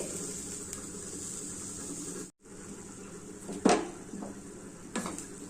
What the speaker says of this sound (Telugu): కొబ్బెర నువ్వులు గస కొబ్బెర పల్లీలు నూగులు పచ్చిమిర్చి పల్లీలు అన్నీ వేయించుకున్నాం కదా